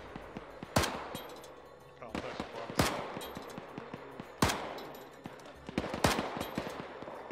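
Arma 3 combat gunfire: sharp, loud single shots roughly every one to two seconds, echoing over quieter distant popping, while voices talk in between.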